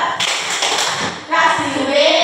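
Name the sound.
class doing a rhythmic 'tepuk hebat' clap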